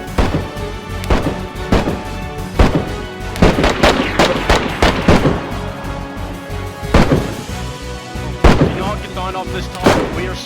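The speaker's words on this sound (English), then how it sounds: "The gunfire intensified the closer I got to the main entrance." Heavy gunfire near a building's main entrance in a game: loud, close, irregular bursts of shots and booming blasts, some in rapid clusters, with brief gaps between.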